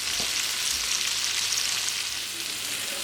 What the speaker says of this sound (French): maintenant je vais les faire dorer un petit peu dans mon wok avec